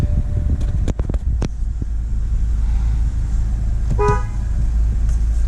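A 2009 BMW 528i engine idles rough after starting, a steady low rumble with a few sharp clicks early on and a brief tonal horn-like chirp near the end, no one speaking.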